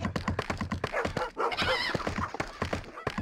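Several dogs bark in short, loud bursts while a building goes up in the PC strategy game The Dark Legions, mixed with busy game sounds and thuds.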